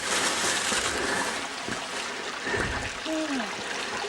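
McGinty's Creek on a bush walk along Nineteen Mile Creek trickles and burbles steadily close by, a constant soft wash of running water with a faint voice briefly audible beneath it.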